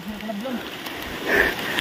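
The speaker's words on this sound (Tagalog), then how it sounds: "Sa lakas ng, ano, ulan." Heavy rain falls as a steady hiss throughout, with a faint voice briefly audible over it and a slightly louder burst near the end.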